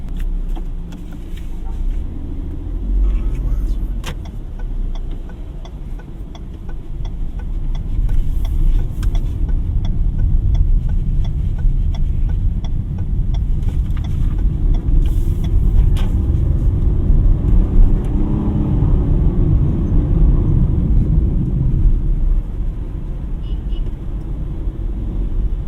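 A 2025 Suzuki Dzire Hybrid's engine hums steadily inside the cabin while driving, a loud low drone that swells slightly as the car is pushed harder, with road rumble underneath.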